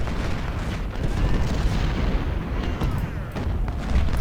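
Artillery fire from 10-pounder guns in the Civil War strategy game Ultimate General, Battle of Antietam: dense overlapping booms and rumbling volleys rolling continuously over a few seconds.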